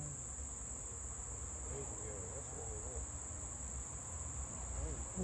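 Honey bees buzz around a working bee hive that has been transplanted, a steady faint insect drone with a high continuous whine over it and no clear voices.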